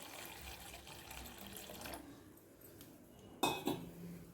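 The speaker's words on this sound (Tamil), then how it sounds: "வெள்ளத்தை கரைச்சி வச்சுருக்கோம் இல்லைங்களா, அதை ஊற்றிக்கலாம்" Dissolved jaggery water poured into a pot while cooking karadaiyan nombu adai, a brief splashing pour near the end over soft kitchen clatter of utensils.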